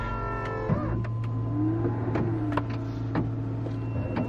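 Koenigsegg Agera RS starting up, a steady low electrical hum and whine as the systems load, with faint clicks and a brief rising tone, heard close and alone.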